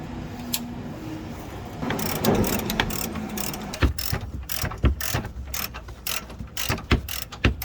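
Ratchet wrench loosening the 24 mm bolts on the tow hook of a 2019-2023 Ram 2500/3500 truck: rapid clicking pawl bursts with sharp metallic ticks, close and fairly loud, no talking.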